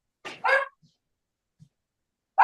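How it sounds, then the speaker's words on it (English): A dog on a small family vineyard farm in Redwood Valley, Mendocino gives two quick, close barks, then goes quiet before a third bark starts right at the end. "Oh, doggy."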